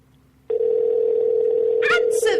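A telephone call sounds a steady, unbroken tone while waiting for someone to answer. It starts abruptly and holds on, and brief voices cut in over it near the end.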